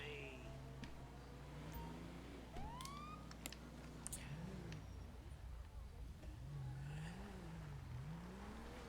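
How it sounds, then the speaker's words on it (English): Police car siren in the GTA V LSPDFR game, rising and falling wails sweeping through the clip over engine hum and revving, with brief whoops and clicks, fairly loud and steady throughout. "I just hit L3 to go ahead and turn my sirens back off again."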